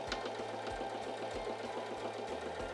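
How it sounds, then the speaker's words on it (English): A SINGER Simple 3337 sewing machine runs a straight stitch, its needle thumping in a fast, steady mechanical rhythm with a continuous motor whir, close and alone. "I'm gonna release the lever and then continue sewing my straight stitch."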